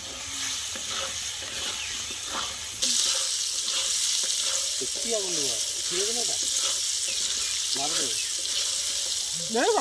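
Turmeric frying in hot oil while cooking a katla fish curry: a steady close sizzle with stirring scrapes that grows louder partway through, with brief voices in the background.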